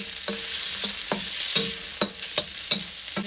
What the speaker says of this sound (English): Give it a little bit of a stir fry